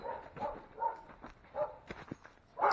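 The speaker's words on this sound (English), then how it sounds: "sorry about the dogs." Dogs near a driveway work site let out a run of moderate, fairly close barks and yips at irregular intervals, ending in a louder bark.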